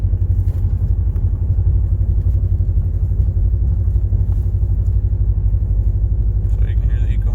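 A Ram 1500 pickup with catless long-tube headers drones steadily and loudly from inside the cab at cruising speed, a deep continuous exhaust rumble that holds fairly even throughout.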